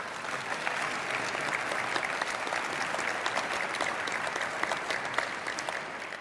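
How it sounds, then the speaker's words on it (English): Steady audience applause fills the hall for the panel at a spring debate on Britain's EU membership, a dense, even clapping that holds at full strength throughout with no voices over it. "let's start by giving all of our panel a round of applause."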